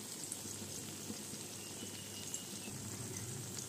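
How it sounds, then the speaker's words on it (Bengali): Pointed gourd and eggplant frying in a shallow layer of oil in a pan, a steady soft sizzle with faint crackling pops throughout, close and even, with no voices. "আমি পটলটা ভেজে নিচ্ছি, আর সাথে বেগুনগুলো ভেজে নিচ্ছি"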